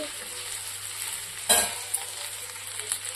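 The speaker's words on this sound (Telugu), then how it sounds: "కరివేపాకు అల్లం పేస్ట్ వేసి వేయించుకొని ధనియాల పొడి కారం పొడి వేసి" Spices sizzle in a pan with curry leaves and ginger paste, a steady close frying hiss with one louder burst of sizzling as the pan is stirred.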